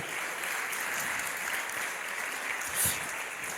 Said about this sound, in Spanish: Dar un aplauso a Jesús, por favor.